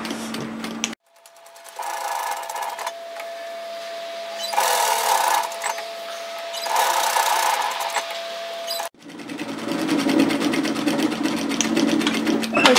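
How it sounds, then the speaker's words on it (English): A sewing machine stitches a 6mm, quarter-inch seam allowance on a shacket in steady whirring bursts of varying speed, starting and stopping between runs, close and clear with no talking. "I'm going to sew at 6mm, 1/4 inch seam allowances"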